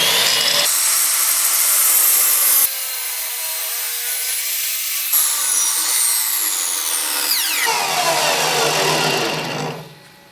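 A miter saw spins up and cuts wood at a 45-degree bevel, its loud whining motor shifting in pitch as the blade bites through, then winding down to a fading whir at the end.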